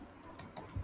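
Several quick light clicks of typing on a computer keyboard, soft and close, irregularly spaced over under a second.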